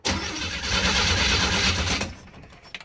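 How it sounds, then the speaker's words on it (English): A classic Chevy engine long parked for years cranks loudly on its starter for about two seconds with a rough, steady churning roar, then cuts off, leaving a faint rattle and a few small clicks. "now we finally just got the engine cranking up to some decent RPM"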